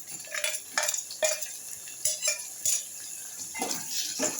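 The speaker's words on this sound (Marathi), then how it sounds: "कांदा असा मस्त परतून झाला की यामध्ये टोमॅटो घालूया." Tomatoes tipped into a pan of fried onions for a prawn curry, then stirred, with metal spoon scrapes and clinks on the pan over a faint sizzle, close by.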